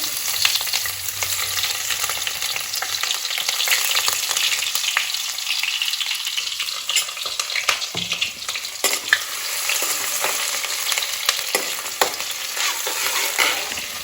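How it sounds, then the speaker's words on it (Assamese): Chopped onions fry in hot oil in a pan for a Maggi noodle dish, a loud, steady, close sizzle with occasional stirring clicks and no talking. "পিঁয়াজবোৰ দি ল'ব লাগিব তাৰপিছত ভালকৈ ফ্ৰাই কৰি ল'ব"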